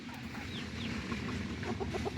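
Young roosters and hens in a barnyard cluck softly and steadily, with a few higher calls rising above the low murmuring of the flock, all fairly faint.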